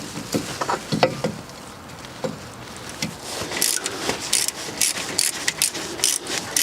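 Brake disc retaining screw being tightened by hand on the front hub of a BMW F20/F21 1 Series, a series of close light clicks, scrapes and ratcheting taps at an uneven pace.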